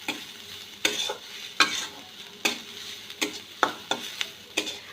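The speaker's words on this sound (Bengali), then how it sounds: "এখন আমি নাড়াচাড়া করে একটু ভেজে নেব খুব বেশি ভাজবো না হালকা ভেজে নেব" Onion and cabbage fry lightly in a pan, with a soft sizzle under regular, fairly loud spatula strokes scraping and tapping the pan about every half second, close by.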